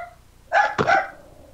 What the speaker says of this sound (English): I apologize for the small dog.